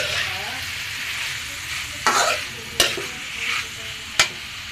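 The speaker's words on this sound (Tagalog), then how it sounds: "Halo-haluin" Pork frying in a pan for pansit bihon sizzles continuously while a utensil stirs and scrapes, with a few sharp clacks against the pan at irregular intervals; no talking.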